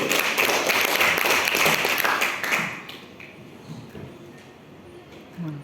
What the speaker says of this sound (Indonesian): Tepuk tangan untuk regu B.